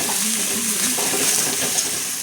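Spice masala with turmeric and salt sautéing for a chicken dish, a steady close sizzle with soft stirring, brief and even.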